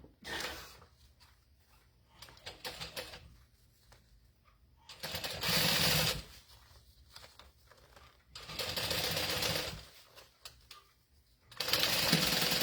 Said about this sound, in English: I'll sew down just a little bit further